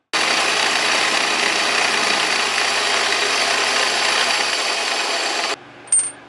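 An end mill cuts a flat into a metal shaft, giving a steady, loud grinding hiss that runs continuously for several seconds, then stops abruptly and leaves a brief faint tick.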